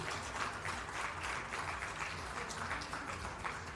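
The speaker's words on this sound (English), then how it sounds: "Definitely a round of applause to our marketing team." Audience applause for a bank's marketing team at a corporate initiative event, a steady wash of many hands clapping that holds at an even level for a few seconds.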